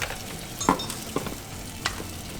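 Scallops frying in a pan with garlic for a cheesy seafood pasta: a faint, steady sizzle with a few short scraping stir strokes, close and without talk.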